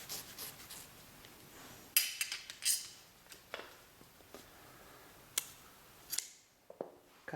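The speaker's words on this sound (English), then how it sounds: "Cut the yarn." Scissors snipping yarn during a crochet slipper project, with a few sharp close-up snips and small metallic clicks scattered over a quiet background, no speech.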